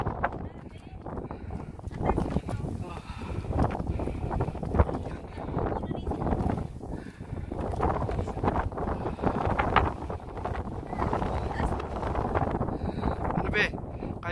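Steady roaring wind at Katepwa Lake, Saskatchewan, buffets the microphone throughout, with people talking in Filipino over the rush of air.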